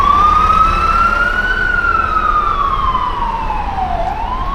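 An emergency vehicle siren sweeps slowly up and down in a steady wail, clear and fairly loud over low traffic rumble, with no voices.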